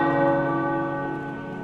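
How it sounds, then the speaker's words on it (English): Tower bells ring out in Midnight Suns, one rich sustained peal full of layered overtones, loud at first and slowly decaying. "The tower bells are ringing."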